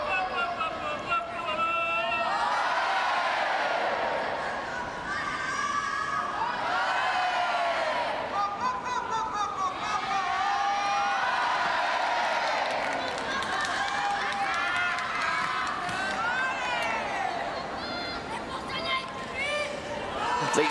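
A large crowd at a Paris 2024 Paralympics boccia match, a sustained roar of chatter and cheering that swells and fades in waves, with a commentator's voice over it.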